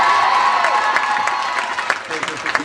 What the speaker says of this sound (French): C'est mon ami Digné qui vous demande d'applaudir.